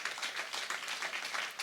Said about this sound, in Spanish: Den un aplauso fuerte a nuestro Dios en esta hora.